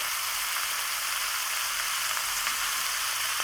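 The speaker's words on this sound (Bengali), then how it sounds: "আমি এটাকে ভালো করে কষিয়ে নিচ্ছি" Turmeric and chili powder with salt sautéing in oil for a rohu fish curry, a dense, continuous sizzle close up and fairly loud, with faint stirring.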